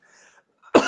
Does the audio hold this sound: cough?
yes